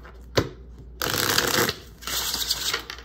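Tarot cards are riffled and shuffled in a few quick papery bursts, close up and fairly loud, with brief pauses between them and no talking.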